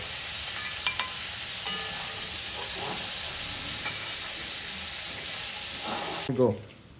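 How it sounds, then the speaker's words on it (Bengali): Shrimp fry in hot oil in a home kitchen, a steady soft sizzle and hiss with a few sharp clinks of a utensil against the pan, ending in a brief scrape before it cuts off. "হয়ে গেছে চিংড়িগুলো ভাজা, এবার তুলে নেব।"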